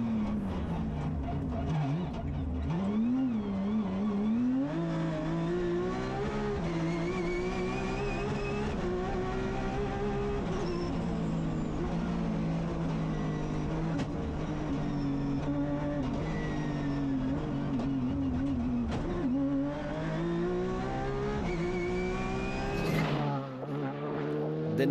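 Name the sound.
rally cars racing, Ford Fiesta being passed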